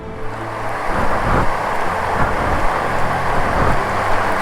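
Heavy rainstorm with thunder on a road trip through Vietnam, a dense continuous roar of rain with low rumbling swells, loud and close throughout, no voices.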